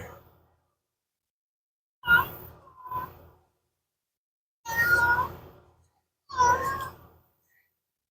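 A cat meows three or four times in a quiet garage during a brake job on a 2006 Chevrolet 5500 Kodiak truck, its short, fairly close cries spaced out by long silences.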